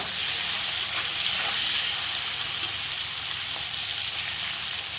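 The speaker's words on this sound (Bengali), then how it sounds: "এবার আমি চিংড়ি মাছটা এই তেলে ভেজে নেবো।" Continuous loud sizzling and hissing of shrimp frying in hot oil, steady and close throughout with no talking.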